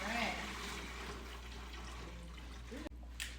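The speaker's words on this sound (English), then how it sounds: "after I put the drops in, I'm going to be adding in the water" Water poured into a humidifier tank makes a soft, steady trickling stream under low room noise, ending with a brief clunk near the end.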